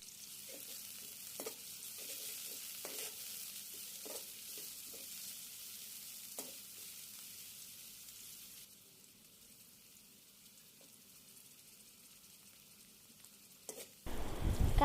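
Chopped onion fries in oil in a pan for a ridge gourd and shrimp curry. A soft, continuous sizzle carries light ticks and stirring clicks, then grows louder near the end.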